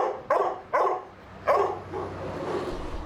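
Dogs in animal shelter kennels bark three times in quick, loud, close bursts, followed by a softer lingering yelp.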